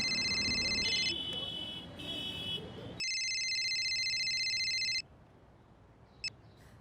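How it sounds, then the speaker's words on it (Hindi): A phone rings on an outgoing call in a Hindi crime drama scene: loud, steady electronic ringing tones in repeated long bursts separated by short gaps, with no talking. "जरा फोन लगाओ सुनीता दीदी को"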